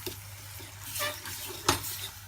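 Vinaigrette being stirred through salmon dish ingredients in a bowl, giving soft wet scraping and swishing with a couple of sharper clicks, close and fairly quiet, with no talking.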